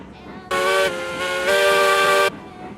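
Coal-fired steam locomotive whistle sounding loud and close, a steady multi-tone blast lasting about two seconds with a slight break midway, over a low background rumble and hiss.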